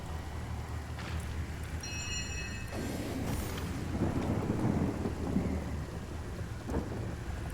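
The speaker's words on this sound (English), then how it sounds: "Thunderstorm!" A thunderstorm spell cast in the video game Divinity: Original Sin, a steady wash of rain with low rolling thunder swelling in the middle, a brief bright chime-like tone near the start.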